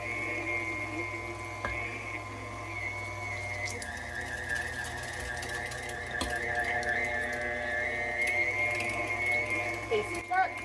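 A KitchenAid mixer's meat grinder attachment churns through beef chuck for hamburger patties, a steady mechanical whir and hum with whining overtones running throughout, with faint clicks and shifts in pitch as the meat feeds through.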